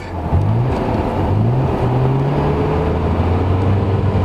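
A Nissan Skyline R33 GTR with its RB26 engine drones loudly from inside the car, a steady low engine note that climbs in pitch in short stepped pulls.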